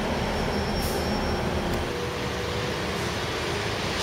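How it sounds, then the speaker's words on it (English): A train passes near the Bath Spa area, a steady broad rumble with rolling low-end noise and hiss holding evenly throughout, no voices over it. "And there goes the train."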